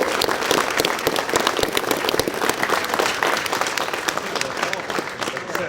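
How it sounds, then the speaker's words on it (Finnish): Loud, sustained applause from an audience at a Finnish farm-show award ceremony, dense clapping filling the whole stretch without a break. "Ja nyt vielä kerran iso aplodi."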